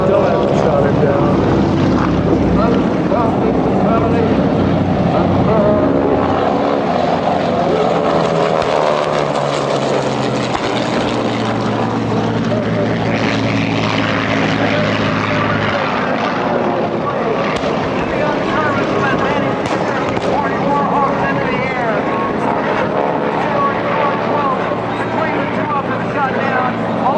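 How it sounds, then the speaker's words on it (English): WWII propeller warplanes, a Zero and a P-51, pass overhead at an air show near Key Largo. A loud sustained engine roar swells and shifts pitch as they fly by, with voices heard in the crowd beneath it. "Here comes the Missouri, the Zero and the P-51 again."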